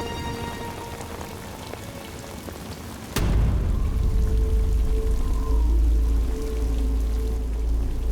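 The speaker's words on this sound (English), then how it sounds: "Even though there was torrential rain, we couldn't collect any of that water." Torrential rain pours down hard and steady, a dense roar of water striking surfaces that swells suddenly louder after a sharp crack partway through, with no voices.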